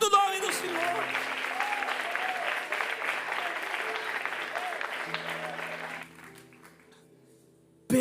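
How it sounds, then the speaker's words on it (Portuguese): A church congregation at a Wednesday night Methodist service applauds in a full, sustained wash with a voice speaking over it; the clapping thins out near the end before a sharp sound at the close. "Aplauda o nome do Senhor."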